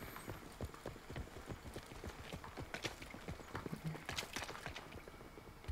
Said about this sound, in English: Hearing all my teammates' footsteps.